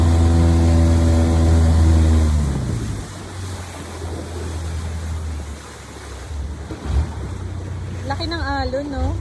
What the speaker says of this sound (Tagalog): Uy, ang laki ng alon.